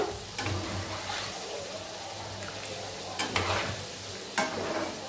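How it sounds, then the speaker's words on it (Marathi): Crispy fasting nuggets deep-frying in hot oil: a continuous close sizzle with periodic scraping strokes as they are stirred and turned, with no talk. "तर व्यवस्थित आपण आता हे गोल्डन फ्राय करून घेऊया"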